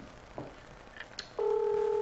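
A telephone call is dialed with a few quick, faint keypad tones, then a loud, steady two-tone signal starts and holds.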